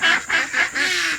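Ducks on a homestead pond quack loudly and close by in four quick bursts, one call following another with no talk over them.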